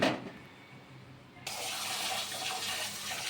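After a short quiet moment, water suddenly gushes into a bowl of ration rice being washed and keeps rushing steadily, close and fairly loud.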